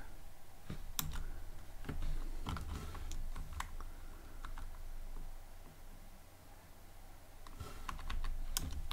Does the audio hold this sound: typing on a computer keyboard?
yes